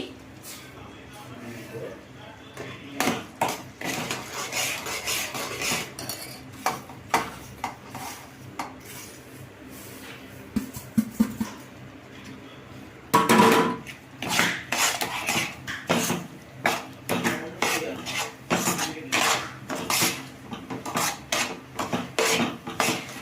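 A spoon stirring and scraping ravva laddu mixture in a metal pan on the stove, with frequent clinks and knocks against the pan while someone talks throughout.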